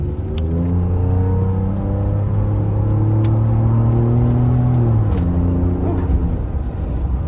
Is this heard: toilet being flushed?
no